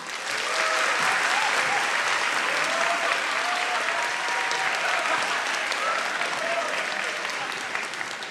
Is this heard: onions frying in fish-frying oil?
no